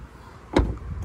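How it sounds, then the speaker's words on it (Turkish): Rear door of a Skoda Yeti 1.6 TDI SUV shutting with a single short, solid low thud, close by, followed by a brief quiet interior. "gayet güzel ve tok kapı sesi var"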